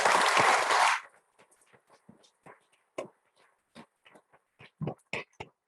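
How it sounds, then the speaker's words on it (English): Applause for a girls basketball team at a school board meeting: a loud burst of clapping for about a second, then fading to scattered faint claps and small room noises. "One last applause for them."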